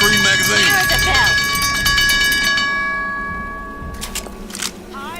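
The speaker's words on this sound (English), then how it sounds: "There is a bell." A bell rings once in the video game Bioshock Infinite, a bright metallic strike whose ringing tone fades slowly over a few seconds, followed by a few soft clicks and knocks.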